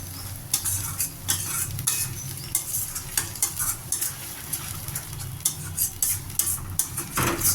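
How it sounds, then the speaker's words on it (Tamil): Pirandai (adamant creeper) sautés in a pan for thuvaiyal, a steady sizzle under rhythmic stirring with repeated scraping and clinking of a spatula against the pan, close and alone without speech. "நான் இது அப்படியே நல்லா சுருளாக வதங்கணும்"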